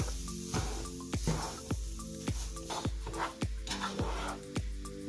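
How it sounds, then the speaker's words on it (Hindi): Semolina roasting in butter on a low flame while a spoon scrapes through it, with regular scraping strokes over a steady low hum and a faint crackle at close range. "हल्की आंच पे हम भून रहे हैं"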